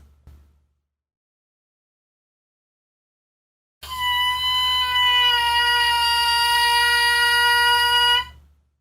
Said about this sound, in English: See if you can get both notes in the crow to sound like this.